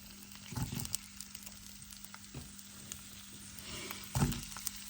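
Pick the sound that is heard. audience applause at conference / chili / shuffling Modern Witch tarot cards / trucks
chili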